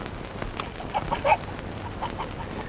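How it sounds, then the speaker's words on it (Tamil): A chicken clucks faintly a few times in short, scattered bursts over a quiet, hissy background, with no voices. "கோழி சத்தம் வருதுங்க"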